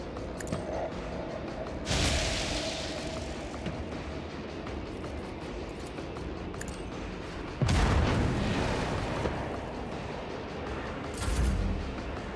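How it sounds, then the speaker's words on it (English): Video game explosions set against a constant low battle rumble: three heavy, broadband booms land at separated moments, each swelling loud and then fading back into the din, with no talking. "That explosion."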